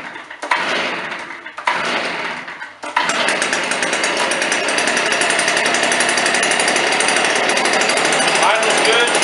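A Stihl BR420 Magnum backpack blower engine on fast idle with choke, a couple of short sputtering pops before it catches and settles into a loud, steady two-stroke roar.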